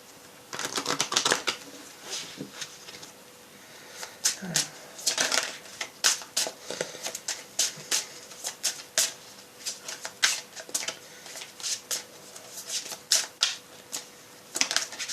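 Tarot cards are shuffled by hand in repeated quick riffles and slaps, a crisp irregular patter of bursts that runs throughout at moderate volume, with a few soft handling sounds between.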